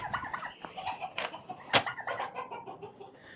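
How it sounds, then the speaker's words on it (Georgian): A chicken clucks in short, uneven bursts near a gas stove, with one sharper squawk partway through and no speech over it. "ის ნახეთ ის არის ქათამი"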